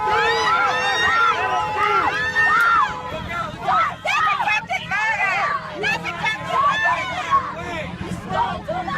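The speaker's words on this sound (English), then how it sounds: "This Jeep is trying to get through a crowd of people" Loud, dense crowd hubbub surrounds a Jeep pushing its way through a mass of people, with raised and shouting voices overlapping continuously throughout.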